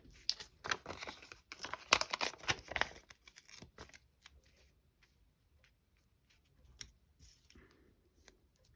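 Scissors snip card paper in a quiet crafting session, with a quick run of crisp cuts and rustles early on, then a few sparse, faint snips and handling sounds.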